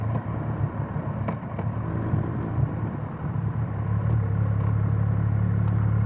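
Many motorcycles arriving at a busy bike meet at Great Bentley, a continuous loud rumble of engines rolling in, heard up close from a Triumph Rocket 3 R ride-out, no one speaking.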